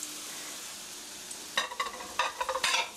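Pieces of spicy seasoned chicken are slid into hot frying oil, giving a soft background hiss that breaks into several sharp, crackling sizzle bursts close by.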